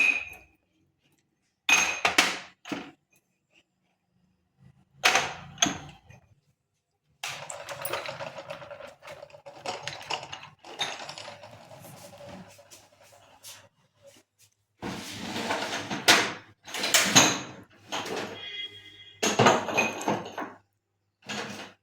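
Glass dishes being set onto a kitchen shelf during Diwali kitchen cleaning, a series of separate clinks and knocks with quiet gaps, then longer stretches of clattering and shuffling handling.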